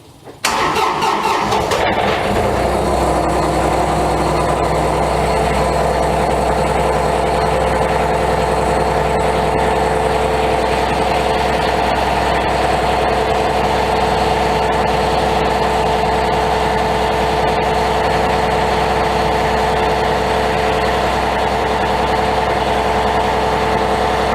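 A diesel truck engine turns over and catches right after the glow plugs cycle, a quick cranking burst that settles into a loud, steady idle lasting the rest of the time in cold weather.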